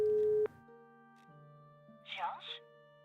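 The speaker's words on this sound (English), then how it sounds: "Oh, we can phone Nico." Telephone busy signal in the Broken Sword 5 video game: a steady repeating tone that runs right through the clip at moderate level, with brief game sound effects layered on top and no speech.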